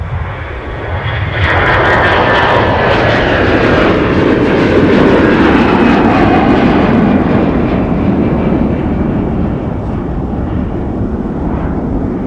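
Delta jet airliner landing at MSP airport in winter, its engines swelling into a loud, broad roar that holds steady and slowly eases off, fairly close, with no talking.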